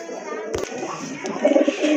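A black and white pigeon pair coos softly nearby, with low warbling calls that swell toward the end and a sharp tap early on.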